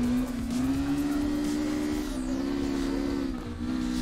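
A car drifting in CarX Drift Racing Online, played on a wheel: a steady engine drone that holds, dips briefly and rises again, loud and continuous, with no talk over it.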